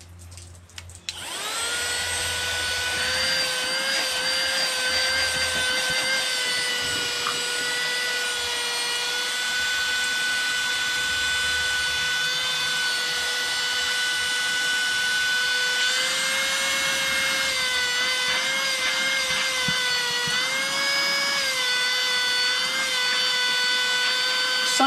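Elegiant cordless rechargeable handheld car vacuum cleaner with a HEPA filter switched on, starting with a click and then a steady high-pitched whine that runs unbroken for the full stretch, close by, with no talk.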